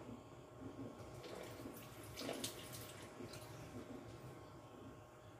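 Water poured into a Thermomix bowl for dorayaki batter with honey and yeast, a soft, continuous faint splashing trickle heard close in a kitchen.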